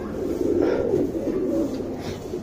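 Domestic pigeons, a smoky-coloured female among flying birds, coo softly in a low, murmuring burst of a few seconds, fairly close and free of talk.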